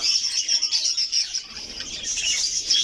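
A flock of parakeets chirping continuously, busy high-pitched twittering chatter that stays close and fairly loud throughout.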